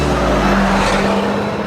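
A Mitsubishi Lancer Evolution all-wheel-drive car at full throttle through a corner on a racing school track, its engine droning loud and steady from inside the cabin.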